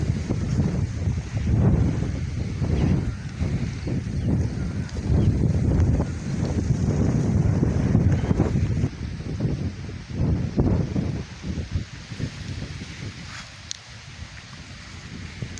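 Dry April wind blowing outdoors on a farm where water buffalo are kept, a loud steady rushing buffeting the microphone in gusts, easing somewhat toward the end.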